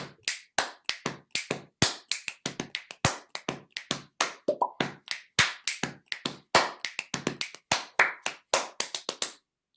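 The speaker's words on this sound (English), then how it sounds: "Well, you got the snaps, you got the claps, you can wipe, all kinds of different sounds." A person snaps fingers, claps hands and rubs the palms together at close range, producing a rapid, uneven series of sharp dry cracks and a few soft brushing sounds, with no talking.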